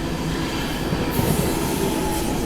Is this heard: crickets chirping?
no